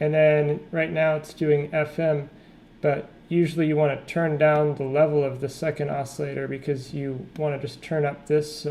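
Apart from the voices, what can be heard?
No distinct noise like a dog, phone or traffic.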